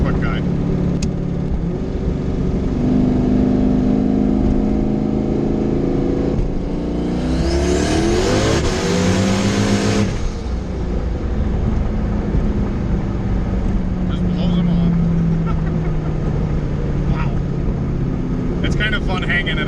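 Car fitted with a rebuilt TH400 automatic transmission accelerates hard, engine droning loud and steady with rising revs and a sweeping surge midway, then settling into a sustained high-speed roar, with wind noise throughout.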